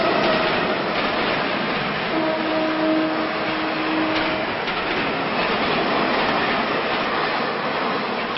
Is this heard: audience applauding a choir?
no